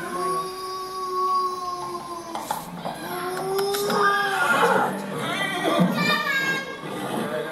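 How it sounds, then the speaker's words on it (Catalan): A horse neighs in several shrill, wavering whinnies that rise and fall over a few seconds, mixed with children's voices and chatter in the background. "Cavall."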